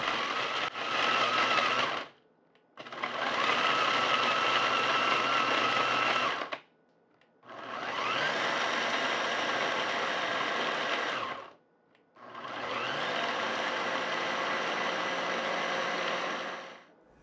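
A blender grinds chicharron into crumbs in four separate bursts, each a loud whirring roar lasting several seconds, the later ones longer, separated by short silent gaps.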